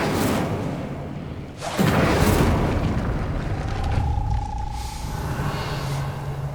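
The Incendio fire spell blasts in Hogwarts Legacy, a deep booming whoosh of flame that bursts loudly after a brief dip and then rumbles on, with a faint tonal hum underneath.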